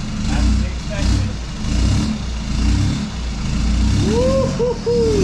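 A Nissan Patrol diesel engine fitted with new injectors revs up and down in repeated surges, loud and close, ending with a rising whine.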